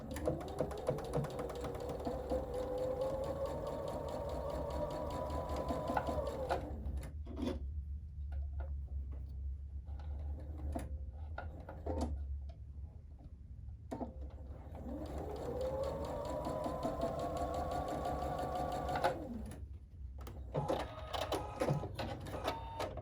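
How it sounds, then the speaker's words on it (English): A sewing machine stitches a quarter-inch quilting seam in two long runs, its motor whirring up to speed with a rapid needle clatter. A quiet pause filled with small clicks and handling noises separates the runs. "Okay, so I'm going to sew these. Again, you want a really accurate 1/4 inch seam."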